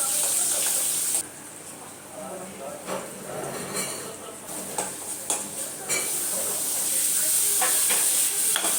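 Vegetables are tempered in hot oil, which sizzles and crackles steadily as a spoon stirs and clinks against a pan.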